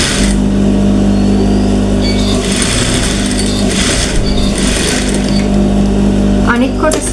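A sewing machine stitching a blouse, running continuously and close with a steady mechanical whir and hum throughout.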